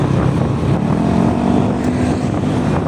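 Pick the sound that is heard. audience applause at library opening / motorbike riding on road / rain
motorbike riding on road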